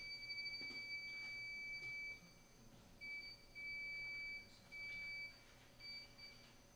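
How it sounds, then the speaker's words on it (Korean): A Pro-face industrial touch panel gives a faint, thin electronic beep that sounds in several repeated bursts of about a second while a button is held, with brief gaps between them over a quiet room hum. "지금 버튼 계속 누르고 있으면 삐 소리 나잖아요"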